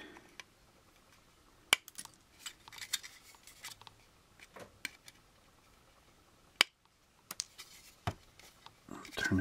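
Square plastic tubing on an AMT U.S.S. Enterprise model kit 6676 warp drive is cut off with a series of sharp, close snips and snaps, spaced irregularly over quiet background handling noise.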